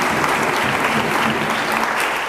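A church congregation claps steadily and loudly, a dense, even wash of hands throughout.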